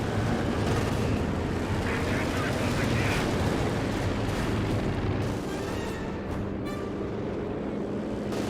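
Rumbling battle sounds from Company of Heroes 2 as a strafing run hits alongside tank fire, a loud, continuous wash of booms and gunfire with commentary spoken over it.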